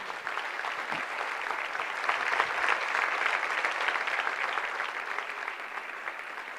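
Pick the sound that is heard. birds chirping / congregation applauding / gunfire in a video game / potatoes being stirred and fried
congregation applauding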